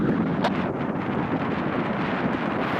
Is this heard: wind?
yes